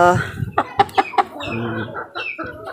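Asil chickens cluck in a quick run of short, sharp calls near at hand, followed by softer, lower clucking and faint bird chatter.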